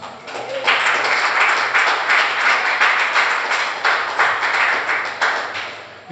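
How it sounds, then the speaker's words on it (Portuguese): A church congregation applauds together, producing a dense, steady wash of many hands clapping that fills the room at an even, loud level for several seconds. "Você pode aplaudir Jesus?"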